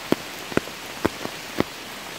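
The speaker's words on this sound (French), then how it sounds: "Il pleut là, dehors, hein, il pleut, hein, beaucoup, hein." Heavy rain falls outdoors in a wood during a chanterelle hunt, heard as a faint steady patter with a few distinct drops landing at intervals close by, and no voices.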